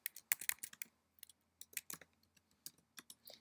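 Short bursts of keystrokes on a computer keyboard while entering Etsy sales, shipping and refund figures into a spreadsheet, close and crisp with brief pauses between runs of clicks, no talking.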